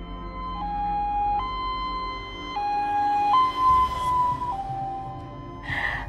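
An ambulance siren wails in alternating two-tone steps, loud and close, rising and falling in pitch, with a brief rumble of the passing vehicle.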